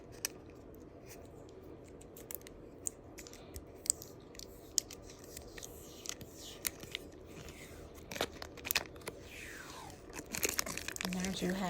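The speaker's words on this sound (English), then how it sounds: "So let's get this plastic off this side." Thin protective plastic film being peeled off a double-sided Christmas ornament for sublimation, heard close as faint crinkles and sharp little ticks, growing busier toward the end, with a voice speaking in the background.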